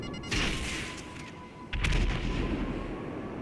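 Missile explosions in GTA 5 Online: two heavy booming blasts land about a second and a half apart, each followed by rumbling debris and crackle over constant low game noise.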